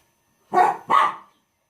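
A female dog indoors gives two quick, close, loud barks, then falls silent.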